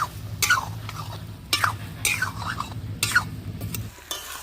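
Ground cumin paste stirred into a pan of cooking Malabar spinach greens with potatoes and rohu fish roe, a village-style curry; scraping spoon strokes come in uneven bursts over a low simmering hum, close by.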